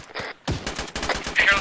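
Rapid gunfire in the military shooter ArmA 3 crackles through a firefight, with close bursts and single shots in quick succession and a few voices underneath.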